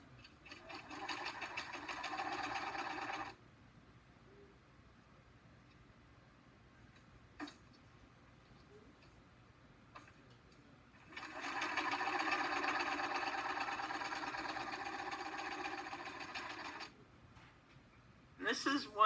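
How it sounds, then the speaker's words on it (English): A sewing machine stitches fabric with a quarter-inch seam in two runs of rapid, steady ticking, separated by a quiet pause with light handling clicks, fairly faint overall. "just sew them on with a 1/4 inch seam"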